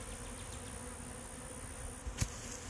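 Honey bees buzz steadily around a hive frame, a continuous close drone with a faint high whine and a brief knock near the end.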